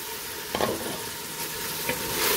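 Three medium potatoes frying with mutton on a high flame for Punjabi aloo gosht, a steady hissing sizzle up close with a few brief stirring scrapes.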